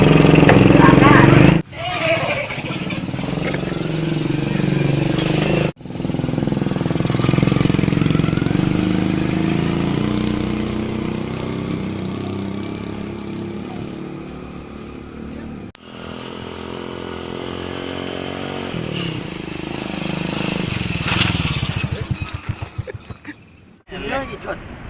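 A motorcycle engine runs loud and close, cutting out several times with abrupt drops to near silence before restarting, finally sputtering and stalling, while people talk over it.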